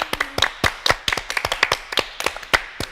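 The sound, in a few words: applause from studio hosts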